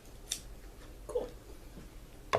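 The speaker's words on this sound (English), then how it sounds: "Scissors." Scissors snip open toy packaging in a small apartment, a few sharp, close clicks and cuts spaced apart against quiet room tone.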